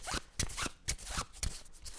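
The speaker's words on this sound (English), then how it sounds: "So we're out of Stardate cards, so we have to shuffle." Board game cards being shuffled during a Star Trek Expeditions game, heard as a close run of rhythmic riffling bursts, several quick flutters in succession at moderate volume with no talk over them.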